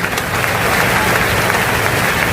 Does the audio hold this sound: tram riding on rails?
no